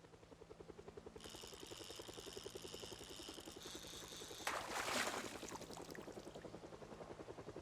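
A helicopter in the Project Zomboid game passes overhead in a wilderness survival setting, its steady rotor chop pulsing throughout, with a brief louder whoosh midway, no talking.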